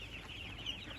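Six-day-old laying ducklings in a heated brooder pen give a quick, faint chorus of high peeping chirps that overlap in a brief, steady cluster.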